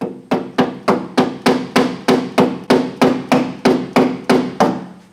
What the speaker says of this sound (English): let's see what happens if I just tap it with my little plastic hammer